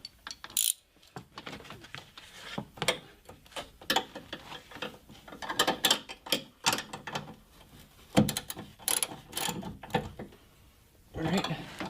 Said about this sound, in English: we're going to go back with a socket set and make sure that that's nice and secure